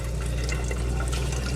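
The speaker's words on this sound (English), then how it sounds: "Now I'm going to put on my water pump." Water runs from the sink lines of a 2002 Roadtrek 190 Popular Class B RV as the water pump pushes it through, a steady close rushing flow with no talking.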